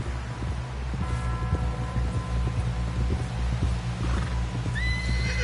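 A horse whinnies loudly, close by, over a steady rhythmic clip-clop of hooves and a low hum; no one speaks.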